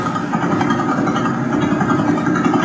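Vela pulsar radio pulses rendered as sound form a steady, rapid stream of throbbing, buzzy pulses, dense and fairly loud throughout with no speech.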